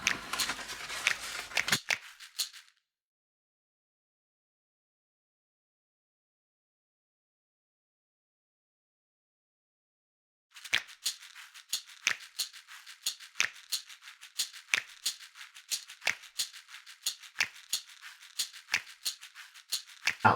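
Scissors snip steadily through excess paper while trimming a cone shape, a quick run of crisp cuts, then a long silence before a fast, rhythmic series of close snips resumes.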